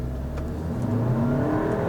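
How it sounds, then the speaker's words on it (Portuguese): An Audi A3 Sedan 2.0 turbo, a 2022 Performance Black, pulls away from a standstill, its engine note rising steadily and loudly over two seconds with no talking. "Então vamos lá, acelerando e saindo."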